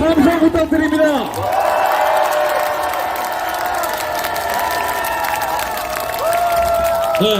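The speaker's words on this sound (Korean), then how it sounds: "박수 함성 부탁드립니다." A crowd at a political rally in Seomyeon, Busan, applauding and cheering loudly, with whistles and shouts over a sustained wash of clapping, and an amplified voice near the start.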